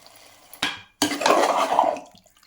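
Marinated chicken drops into a cooking pan with tomatoes, a short clatter followed by a loud wet sizzle and splash that fades after about a second.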